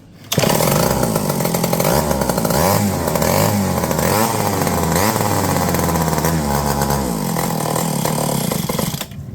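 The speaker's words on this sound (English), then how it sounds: "Runs good on the prime, but it's leaning out." A McCulloch 30 Series chainsaw engine runs on prime during fuel system repair, a loud, close, steady two-stroke buzz with wavering pitch that holds for about nine seconds before cutting off.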